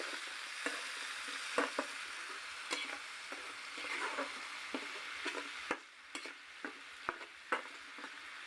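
Taro pieces being stirred with a little water in a pan, a soft continuous sizzle with scattered light scrapes and taps of the spoon, quiet and close, with no talk.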